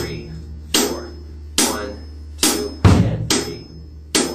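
Drum pattern with accents on the and of two: a steady low bass pulse sits under sharp, bright crash-like hits that recur every beat or so, with no talking.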